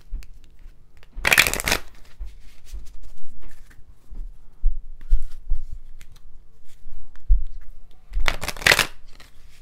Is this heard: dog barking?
no